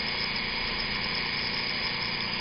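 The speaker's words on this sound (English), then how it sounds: "my motor is going counterclockwise" Modified electric motor spinning counterclockwise on an energizer, a constant, dense whirring hum that stays even throughout, close and without talk.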